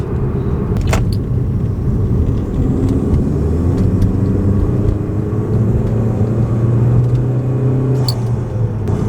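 A 2014 Chevy Cruze RS engine with a cold air intake rumbles steadily up close, revving and whirring as it builds, then eases off, loud and continuous.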